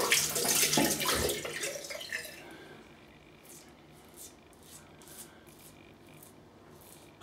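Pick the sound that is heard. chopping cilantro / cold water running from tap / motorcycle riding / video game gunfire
cold water running from tap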